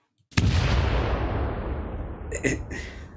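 An explosion sound effect on a Spanish-language podcast: a sudden loud boom opens after a moment of silence and rolls into a long, decaying rumble, with a few sharp crackles toward the end.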